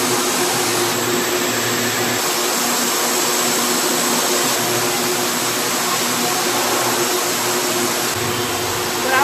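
A machine spins polyester thread for Banarasi saris in a Surat mill, making a dense, loud, continuous whooshing roar that stays steady throughout.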